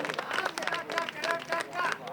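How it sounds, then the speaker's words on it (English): An audience at a community event claps and whoops, an irregular, moderately loud patter of many hands with crowd babble and voices mixed in throughout. "I think we need another round of applause for these guys"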